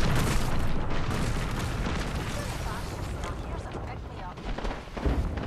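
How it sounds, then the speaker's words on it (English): Dense gunfire and booming bursts in a squad-based shooter game, a sustained loud barrage with a thudding hit near the end, with players' voices mixed in. "Shots."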